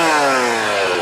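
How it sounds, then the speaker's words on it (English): An old chainsaw runs loud and steady up close, its engine holding a continuous buzzing drone with a slight pitch sag, no voices over it. "here's the backbreaker, the old backbreaker chainsaw."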